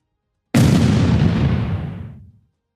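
A single loud, sudden battlefield explosion erupts and then rumbles away over about two seconds, with nothing else heard around it.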